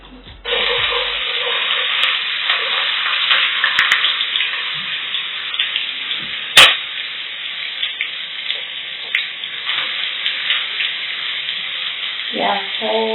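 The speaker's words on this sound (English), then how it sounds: "The oil is hot, so you can add your onions." Onions hitting hot oil for beef pilau, a loud bright continuous sizzle that starts abruptly and holds steady, with a sharp clatter midway and faint utensil knocks near the end.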